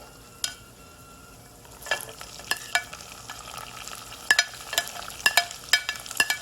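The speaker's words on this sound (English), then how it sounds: "And then I'm going to add my onions." Onions frying in a pan for saffron pilaf rice, a soft steady sizzle broken by several sharp scrapes and clinks of stirring that come closer together toward the end, with no talk.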